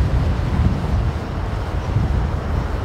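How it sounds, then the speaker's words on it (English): Steady wind roars and buffets the microphone in a continuous low rumble, with no voices, in a park in Fort Smith, Arkansas. "have had some good gusts and it stayed pretty stable, right? It's really blowing up"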